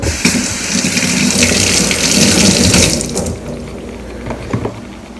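Tap water runs into a sink while okra is washed under it, a loud close gush that eases off partway through, with a few handling knocks.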